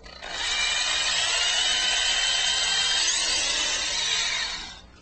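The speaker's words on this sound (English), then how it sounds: "I can make sure I drill a nice straight clearance hole" A power drill boring a clearance hole into a guitar body while installing a Hipshot Tremsetter, a steady high whine running for about four seconds at close range, then winding down.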